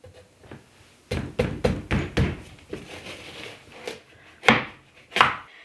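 Sharp knife cuts around the stem of a squash, a quick run of hard thunking chops on a board followed by a few slower, heavier cuts.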